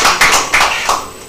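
A few loud, close hand claps at a business workshop event in Kanyamazane, Mpumalanga, a short uneven burst of about four strikes rather than a full crowd roar.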